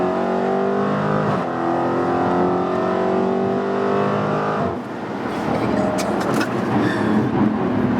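A Dodge Challenger SRT at full throttle, heard from inside the car: a loud engine roar climbing through the revs, a brief dip like a gear change, then continued hard pulling with road noise.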